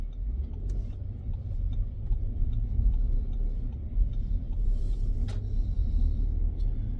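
A car drives through Melbourne while making a right turn, its low engine rumble and road noise steady and close, with a couple of brief clicks and a short hiss partway through.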